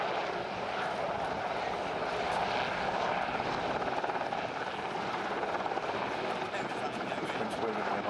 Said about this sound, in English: now you can see one of the principal roles of this particular helicopter